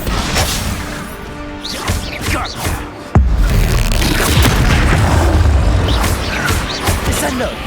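A spell explosion from an Expulso cast bursts in a magical battle in Hogwarts Legacy, a sharp boom that blooms into a sustained rumble mid-clip, with game music and voices talking throughout.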